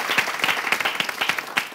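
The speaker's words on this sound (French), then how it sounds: "j'aimerais qu'on applaudisse aussi" Applause from an audience at a debriefing event for a local presenter show, rendered as a short burst of moderate, somewhat sparse clapping with distinct individual claps at close range.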